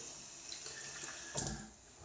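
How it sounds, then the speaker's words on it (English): Tap water runs into a sink while a shaving stick is held under the stream, a steady hiss of flowing water with a brief louder splash near the end. "just wetting it, just getting it, holding it under the tap"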